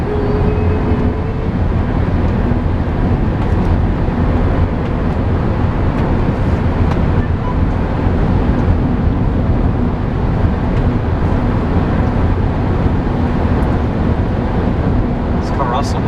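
A 2003 Honda Accord EX-L pulls hard in third gear, its engine drone steady and close inside the cabin with a broad low rumble and road noise running throughout.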